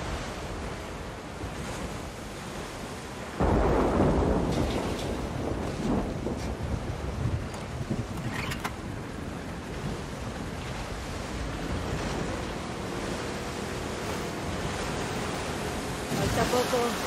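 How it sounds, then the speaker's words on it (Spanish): Loud rushing water surges in The Last of Us Part II, a broad steady roar that jumps up sharply after a few seconds and keeps flowing, with faint voices beneath. "Está fuerte el agua, ¿eh?"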